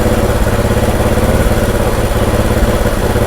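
Motorcycle engine running loud and close during carburettor idle adjustment, a rapid steady pulsing putter with strong vibration, holding an even raised idle speed.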